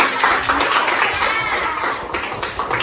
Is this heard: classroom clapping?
yes